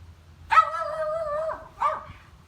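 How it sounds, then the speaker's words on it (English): A dog in a garden gives a couple of short, high yelping barks, the first drawn out into a whine, close and fairly loud with no talk. "And Chelsea's dog, Liberty."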